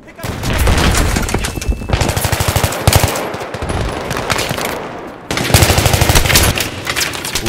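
M16A3 rifle fire in Battlefield 3 rattles in rapid, loud automatic bursts, pausing briefly before a final burst, with game effects behind.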